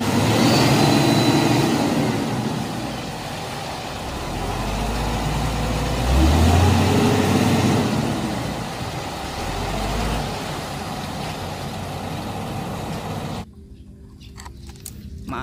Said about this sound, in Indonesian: lihat di sini ada truk molen